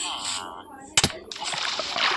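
Splash of a character jumping into water in the Minecraft video game: one short, bright burst near the middle, followed by sloshing, bubbling water sounds, with a person talking over parts of it.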